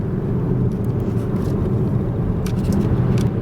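A car drives along the Foss Way near Coventry, heard from inside as a steady low engine and road rumble with a faint higher hiss of tires, with no talking.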